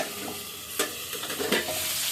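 Potatoes and an egg fry in a pan while being flipped and stirred, making a close, continuous sizzle broken by a few sharp scraping stir sounds.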